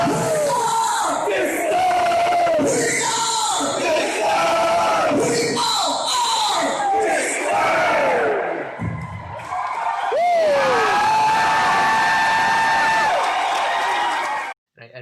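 A large concert crowd at a show chants in rhythmic unison, loud, roaring bursts rising and falling with a few shouted whoops and a lone voice cutting through near the end.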